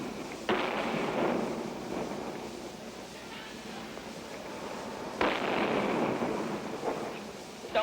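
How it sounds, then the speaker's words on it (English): Mortar fire in archival war footage of a Vietnamese Marine and paratrooper assault on Diem's burning palace: two heavy, rumbling blasts a few seconds apart over a continuous noisy battlefield roar, with voices faintly in the mix. "Mortars."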